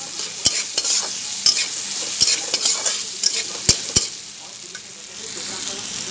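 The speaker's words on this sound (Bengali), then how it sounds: "এতিয়া অকমান ভাজিম এইখানে" Food fries in a pan with a loud, continuous sizzle, punctuated by irregular sharp knocks and scrapes of a utensil stirring against the pan.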